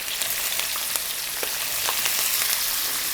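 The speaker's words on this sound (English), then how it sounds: "Now I'm going to put a little onions." Chopped sweet onion sizzles steadily in a hot pan for a shrimp and tindora curry, a dense crackling fry with small pops, close and uninterrupted.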